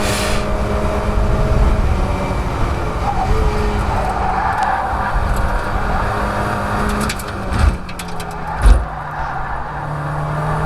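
Mazda MX-5 race cars running in a close pack at Croft circuit, a continuous loud engine drone with shifting pitch, sharp bumps and knocks near the end, no talking.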